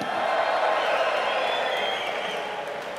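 Quiz night audience about technology responding with a loud burst of cheering, whooping and some clapping, a broad crowd roar that swells and then slowly tapers off.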